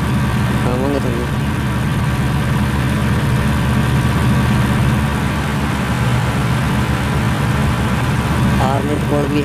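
Indian 4x4 tractor engine in Farming Simulator 20 straining to pull a loaded trolley, a continuous low chugging drone that holds steady throughout, with someone talking over it.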